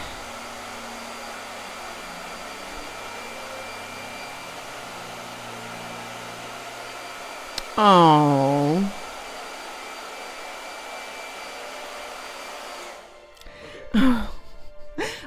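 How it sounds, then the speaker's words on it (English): A blow dryer runs with a steady, close whooshing hum for most of the clip, then cuts off near the end. A brief vocal sound and some shuffling come in on top. "Blow dryer."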